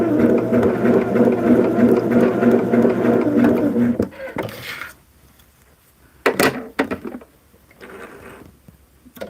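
A sewing machine stitches pieced fabric for a churn dash placemat with a steady, close, rapid whirring hum for about four seconds, then stops; a few clunks and handling knocks follow in the quiet.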